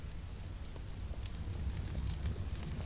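A campfire in a Half-Life 2 mod crackles and hisses steadily, with soft pops over a low rumbling bed and no pauses, heard up close throughout.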